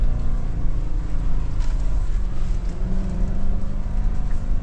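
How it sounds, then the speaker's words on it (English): A 2025 Nissan Patrol engine under power on a slippery off-road climb gives a loud, steady, low droning roar from inside the cabin, sustained throughout without talk. "Give it a bit of power, get some noise happening."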